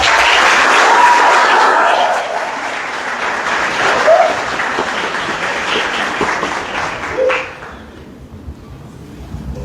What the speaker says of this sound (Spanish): Con un aplauso la recibimos.